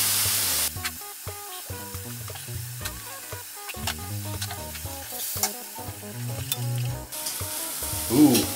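Small bits of bacon crackle and sizzle steadily in a hot frying pan, a close, busy frying hiss with scattered pops and occasional stirring scrapes, no voices.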